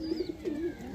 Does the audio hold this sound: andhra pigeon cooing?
yes